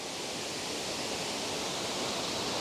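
A waterfall flows behind trees at Middle Creek, its steady broadband rush constant and fairly loud, with no voices.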